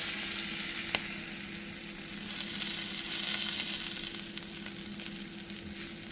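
A crab cake burger sizzles and fries steadily in a pan, a continuous hiss with a single sharp clink near the start and no talking.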